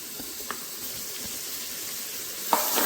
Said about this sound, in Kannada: ಈ ಹಂತದಲ್ಲಿ ನಾವೇನು ಮ್ಯಾರಿನೇಟ್ ಮಾಡಿ ಇಟ್ಟಿದ್ದೀವಿ ಸೋಯಾ ಚಂಕ್ಸನ್ನು ಇದಕ್ಕೆ ಹಾಕ್ತಾ ಇದ್ದೀನಿ.